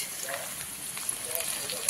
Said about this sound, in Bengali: পেঁয়াজ আলু দুটো একসঙ্গেই ভেজে নেব